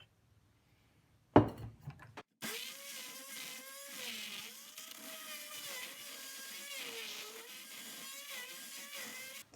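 A Harbor Freight oscillating multi-tool cuts into a Master Lock. A sharp knock comes first, then a loud, steady buzzing whine with a wavering pitch runs to the end. No one speaks.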